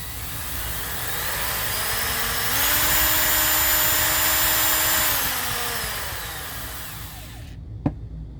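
A corded AC power tool with a brush motor whines steadily, then speeds up to a higher, smoother pitch. It slows back down and cuts off, and a single sharp click follows.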